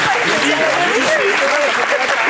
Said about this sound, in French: Je voudrais qu'on applaudisse Daniel Moreau.